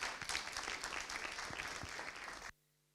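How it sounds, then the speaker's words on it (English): Audience applause at a Pan African conference on illicit financial flows and taxation, dense clapping from a seated crowd, fairly faint and distant, stopping abruptly after a couple of seconds. "Big round of applause."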